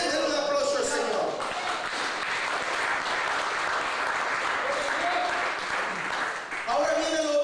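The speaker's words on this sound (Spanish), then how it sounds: "denle un aplauso al Señor." A church congregation breaks into sustained applause, a dense, loud wash of clapping that runs steadily throughout with only a slight dip near the end.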